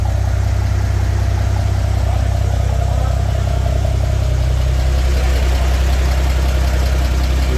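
A Bombardier engine runs steadily at a fairly high idle, a loud continuous low rumble with slight variations in pitch, close by and with no voices over it.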